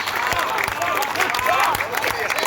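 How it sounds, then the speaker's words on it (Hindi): An audience at a Hindi comedy poetry show breaks into dense, sustained applause, many hands clapping together with crowd noise, while a voice talks over the clapping. "एक एक व्यक्ति की ताली चाहूंगा"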